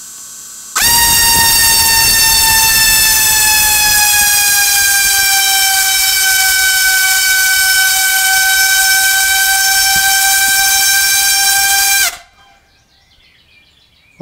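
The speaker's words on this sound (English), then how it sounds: "And now we'll do a max throttle test." Quadcopter motors of a whole drone on a thrust test stand run at max throttle, a very loud, steady whining drone that holds for about eleven seconds and then cuts off abruptly.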